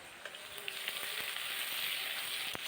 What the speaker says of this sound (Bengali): এবার দিয়ে দিলাম কুচনো পেঁয়াজ।